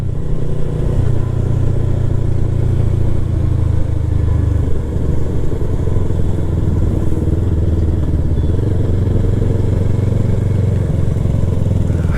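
A Yamaha R3 sports motorcycle cruising on an open road toward Ladakh, its engine droning loud and steady with a constant low hum and heavy wind rush, no talking.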